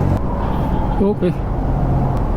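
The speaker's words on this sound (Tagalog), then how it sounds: "The traffic is ongoing, man." Road traffic in Manila hums steadily from close by, a dense wash of vehicle engines with a short spoken word over it.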